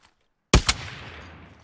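A sniper rifle from Call of Duty: Cold War fired at a wall, a single sharp, loud crack with a quick second burst followed by a decaying rumbling tail after a brief silence.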